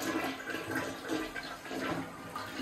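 A Kohler 1.6 gallon per flush toilet in a renovated hotel room flushes with a steady rushing swirl of water, close by and sustained.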